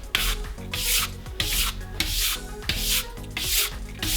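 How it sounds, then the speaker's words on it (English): A brush sweeps across a stained glass work table in steady back-and-forth strokes, about eight loud, close scratchy swishes with a gritty rasp of glass debris and no talking. "again, sweeping everything up."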